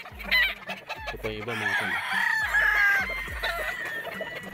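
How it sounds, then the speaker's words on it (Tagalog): Battle stag gamecocks on a game farm cluck in quick repeated bursts while crows ring out, loud and close, with someone talking briefly over the birds. "Mga battle stag to mga tol."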